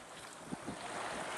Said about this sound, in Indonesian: Saudara bisa mendengarkan suara deru angin ini.